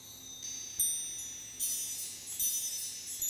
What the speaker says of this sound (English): it's basically just some chopped up parts from one of the mellow wind chimes ambience samples